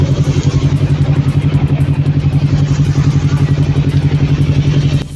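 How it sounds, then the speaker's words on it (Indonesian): Kawasaki Z250 motorcycle engine idling or running steadily on a touring trip, a loud close rhythmic low thrum with slight clatter throughout, dropping off at the very end. "Jambrong si Z250 itu satu-satunya motor batangan dan satu-satunya motor"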